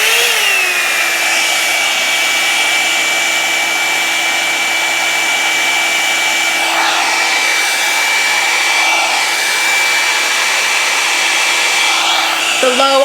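A Revlon One Step Volumizer hair dryer brush runs on its low setting with a steady, loud, close whine and airy rush. Its motor spins up at the start, then holds an even tone for the whole stretch, with no talking.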